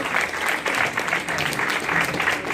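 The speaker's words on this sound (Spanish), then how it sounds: "Un aplauso." An audience claps steadily, a dense burst of applause that holds at even volume.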